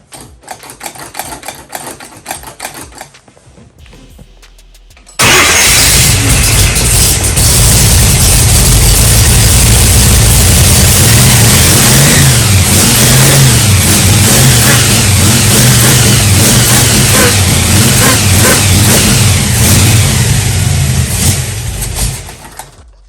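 1966 Chevrolet Nova SS engine with carburetors needing a rebuild: after several seconds of cranking, it fires and catches with a loud jump, then holds a strong lumpy rumble with rising and falling revs for about seventeen seconds before cutting off.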